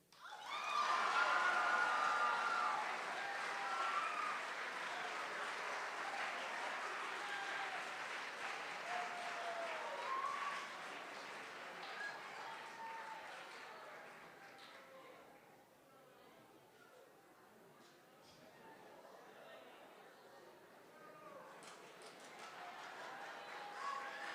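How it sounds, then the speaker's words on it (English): A school chapel crowd applauds an award winner at a spring awards chapel, a broad, distant-sounding wash of clapping that swells early, holds steady and gradually thins, with voices and cheering mixed underneath. "If you guys would give a round of applause"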